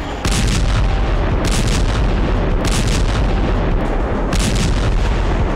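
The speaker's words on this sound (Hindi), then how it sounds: "यही वजह है कि यूक्रेन की जमीन पर धमाके हो रहे हैं।" Heavy booming blasts of explosions in Ukraine hit repeatedly over a constant roaring rumble, loud and dense, like artillery firing in rapid succession.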